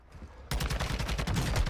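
Rapid burst of gunfire erupts in an online shooter game after a quiet moment, dense and loud with repeated sharp cracks.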